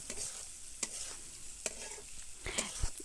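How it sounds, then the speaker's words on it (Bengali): Potatoes fry in a pan until lightly reddened, giving a constant close sizzle with occasional sharper clinks and scrapes as they are stirred. "আলুটাকে আমরা একটু হালকা লাল লাল করে ভেজে নিব।"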